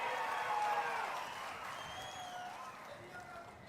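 A crowd at a political rally about the Amaravati capital breaks into sustained applause with some cheering, a broad wash of clapping that stays steady and slowly eases off.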